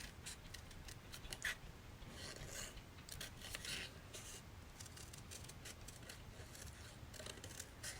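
Scissors fussy cutting around paper images, a soft continuous snipping and rasping of blades through paper, close and quiet, with no talking.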